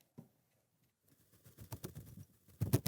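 Soft patters build into a rapid fluttering flurry that grows louder at the end, an imitation of wings flapping, with no voices.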